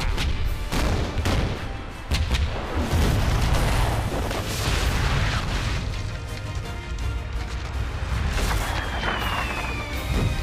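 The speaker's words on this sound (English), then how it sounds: "Prepare to run out the guns. On my command," Heavy cannon artillery fire in the video game Shogun 2: Fall of the Samurai, a continuous rolling barrage of booms and crashes lasting several seconds, loud and dense with no speech.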